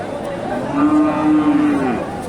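A cow at a cattle market lets out a long, loud moo that swells in the middle and trails off, with no other sounds around it.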